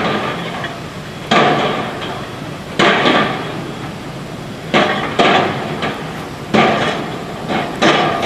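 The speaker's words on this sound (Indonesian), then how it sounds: "terlihat satu alat berat borpel yang sedang melakukan pengeboran ini" Heavy, repeated metallic thuds ring out at a bored pile drilling rig on a bridge construction site in Bogor, West Java, arriving in irregular loud strikes every second or two, each decaying into ongoing site rumble.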